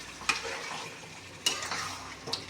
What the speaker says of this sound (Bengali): কাজু বাদাম বাটাটাও বন্ধুরা খুব সুন্দর মতো করে কষতে হবে, যাতে তলে না লেগে যায় সেটা খেয়াল করতে হবে।